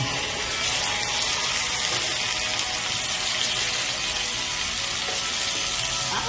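Chicken pieces fry in a hot pan with a loud, steady, dense sizzle and crackle that fills the whole stretch without a break, close by and with no talking.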